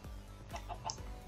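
Chickens cluck in Minecraft, a few short clipped clucks in quick succession, fairly quiet and close, with no talk over them.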